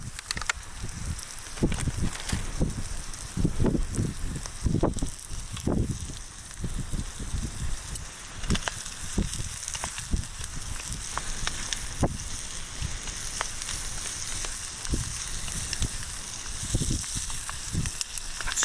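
Smoked bacon lardons sizzle and crackle in a pan with softened onions and carrots over a hot Trangia camping stove at a windy wild camp, with a steady fry and scattered pops and spits throughout, close by.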